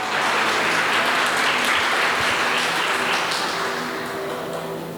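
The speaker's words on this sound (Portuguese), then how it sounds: "Você pode dar uma salva de palmas para Jesus?" A church congregation applauds for Jesus during a Portuguese-language sermon, dense clapping filling the room loudly and steadily before slowly thinning toward the end.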